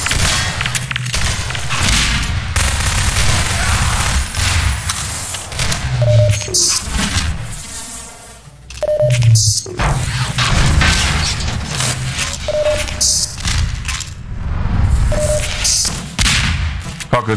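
Repeated gunfire and booming impacts from a Half-Life 2 Deathmatch match, dense and loud throughout with sharp cracks and thuds, a brief lull midway, and occasional voices under the shooting.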